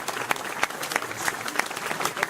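A crowd at the inauguration of a BMW showroom in Lyon claps, with individual hand claps standing out in a brief, lively burst of applause.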